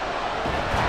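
A stadium crowd in the Madden NFL 24 football video game roars in a dense, loud wash of cheering noise that swells slightly toward the end.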